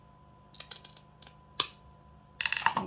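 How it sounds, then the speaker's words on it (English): File nippers snapping a piece of glass cane, a few small sharp clicks and tinkly glassy ticks, then a short cluster of brittle snaps and clinks up close. "Let me cut a piece if I can find my nippers."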